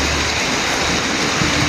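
Rain falls in a dense, steady hiss outdoors, loud and close, with no pauses and no voices.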